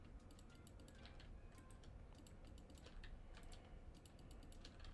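Rapid, faint clicking from a computer mouse or keyboard during a modded Minecraft session, light irregular taps in quick bursts over a low background hum, with a brief spoken remark.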